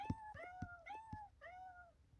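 A cat meows in the Toca Boca video game, four drawn-out cartoonish meows coming in a steady sequence, close and clear with no talk over them.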